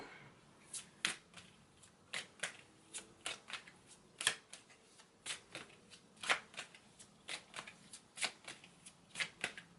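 Earth Power oracle cards being shuffled by hand, a steady series of crisp riffling bursts repeating close up for the whole stretch, with no talking.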